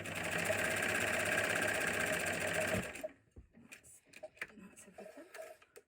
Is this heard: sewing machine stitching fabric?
yes